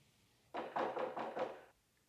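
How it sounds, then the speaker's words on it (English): Someone knocks on a front door, five quick raps in an even burst, fairly faint and muffled as if heard from inside the house. "Oh, listen, there's someone at my front door."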